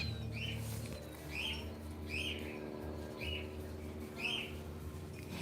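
A bird calls outdoors in short, chirping bursts repeated about every second, moderately near, over a low steady hum of background noise.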